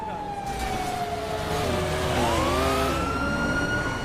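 A police car siren wails up and down, fairly near, over a constant rumble of traffic and engine noise.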